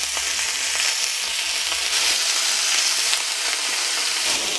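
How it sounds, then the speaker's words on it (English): Beef sears in hot canola oil in a pan, a loud steady sizzle with crackling hiss that holds evenly throughout, close up and without talk. "We're just going to stick our beef in here and get a nice sear on it."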